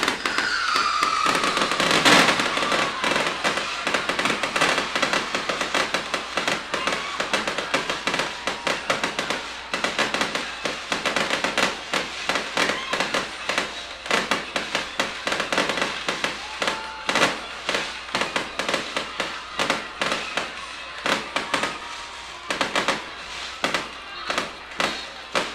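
Fireworks burst after a high school homecoming football game, a long dense barrage of sharp cracks and booming pops in rapid irregular bursts, heard from a distance across an open field.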